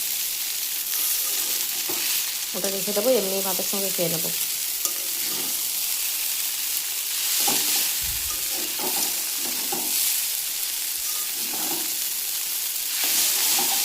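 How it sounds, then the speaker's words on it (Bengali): Chicken chow mein being stir-fried in a pan gives a steady low sizzle with scraping stirs, while someone speaks briefly in the middle and near the end. "ভালো করে নাড়াচাড়া করব, 5-10 মিনিট নাড়াচাড়া করব। একটু ভাজা ভাজা হবে"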